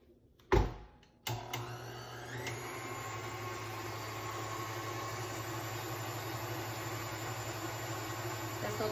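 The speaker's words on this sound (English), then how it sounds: "This will just mix for a minute or two. So I'm using the dough hook attachment to this mixer" A stand mixer fitted with a dough hook kneads olive bread dough: after a couple of sharp knocks it settles into a steady, close motor hum with a constant whirring drone and no voices.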